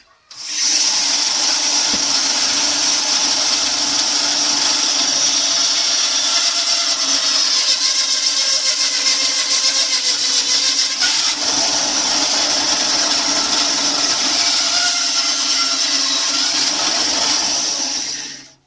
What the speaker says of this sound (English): So and then just a basic fire steel block. Chop it on bandsaw.